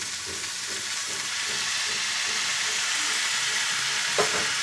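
Spice paste and cauliflower stalks fry in a pan with a small amount of tomato, giving a steady close hiss and sizzle with soft rhythmic stirring and one brief knock near the end.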